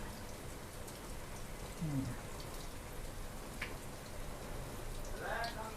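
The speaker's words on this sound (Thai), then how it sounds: "ไม่ต้องรีบร้อนเขาก็ค่อยทอดไปนะคะ" A Thai basil minced pork omelette frying gently in a pan over low heat gives a steady, soft crackling sizzle throughout, with a couple of faint brief tonal sounds in the background.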